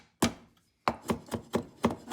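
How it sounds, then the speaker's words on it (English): Ginger is chopped with a knife on a cutting board, one sharp chop followed after a pause by a steady run of five crisp, evenly spaced knocks, close and clear. "Chop some ginger, about a teaspoon of ginger."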